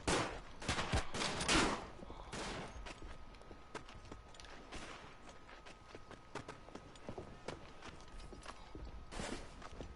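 Scattered gunshots from the WW1 video game Verdun: a cluster of loud, close cracks early on, then sparser, fainter shots and distant reports spread across the battlefield ambience.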